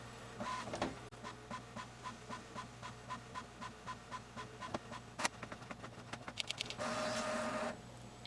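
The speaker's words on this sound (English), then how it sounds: "If you're wondering about what printer I use the HP Envy 4520." An HP Envy 4520 inkjet printer runs off a page of stickers, with a regular train of rhythmic mechanical clicks and whirs from the print head, a few sharper clacks, then a longer motor whir near the end.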